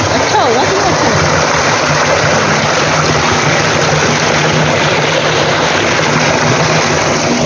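Village water runs steadily along a channel past chickens and jowar fields, a continuous broadband rush that stays loud and even from start to finish, with a faint low hum underneath.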